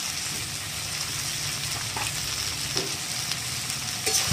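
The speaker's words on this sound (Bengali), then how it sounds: "এবার ভালো করে মিশিয়ে নিই।" A pointed gourd and paneer curry, seasoned with coriander powder, turmeric, salt and a little sugar, fries in a pan. It gives off a constant close sizzle broken by occasional spoon scrapes and taps as it is mixed.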